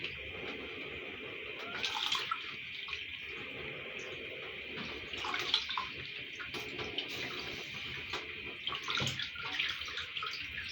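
Water runs steadily from a tap, with occasional splashes and rustling as mustard greens are rinsed under the stream.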